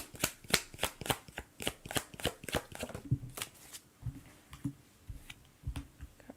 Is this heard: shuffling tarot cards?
yes